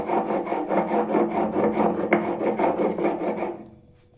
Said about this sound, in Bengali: তো ফার্স্টে বেটে নেব গোটা সর্ষে গুঁড়ো